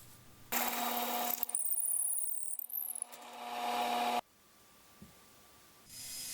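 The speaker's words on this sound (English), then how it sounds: "once dry, we can drill out the center hole to 5/16 of an inch." A power drill whirs steadily for about four seconds with a high grinding whine, drilling a 5/16 inch center hole in a drum sander part, then cuts off, leaving quiet room noise and a soft knock.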